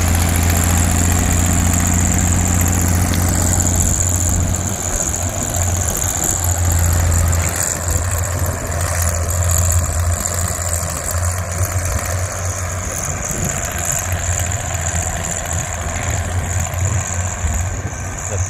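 A tractor pulling a three-bottom plow in second gear across a windy hilltop field gives a steady, continuous engine drone with wind noise over it throughout.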